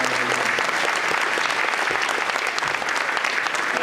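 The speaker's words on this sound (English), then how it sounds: "Let's give them a round of applause for sharing this concert." An audience claps warmly after a symphonic Christmas choir concert, a dense, sustained burst of applause filling the hall from start to finish.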